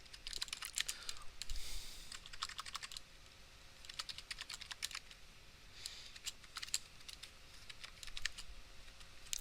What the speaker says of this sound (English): Just bought a new keyboard